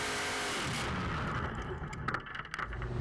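A tractor-pulling tractor's engine roars continuously at full power during a pull at a motorsport event, a dense mechanical drone with some crackling, heard from nearby.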